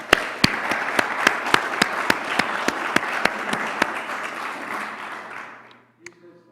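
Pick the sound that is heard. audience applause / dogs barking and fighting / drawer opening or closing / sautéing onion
audience applause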